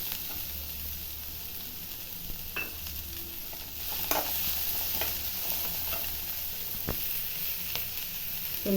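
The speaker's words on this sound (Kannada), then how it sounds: "ಈರುಳ್ಳಿ ಒಂದೆರಡು ನಿಮಿಷ ಫ್ರೈ ಮಾಡಿದ್ದೀನಿ ಕ್ಯಾಪ್ಸಿಕಮ್ ಹಾಕ್ತಾಯಿದ್ದೀನಿ" Onion and capsicum sizzle in a pan while making gobi manchurian, a steady close frying hiss with occasional stirring scrapes and clinks over it, no voices.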